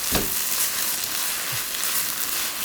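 Onions being stir-fried in a pan, a steady broadband sizzle with a brief low clunk of utensil against the pan near the start, close and continuous with no talking.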